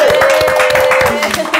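Audience applause for a band at a Bandung performance: a dense wash of crowd clapping that runs steadily through the short moment, mixed with a voice talking over it.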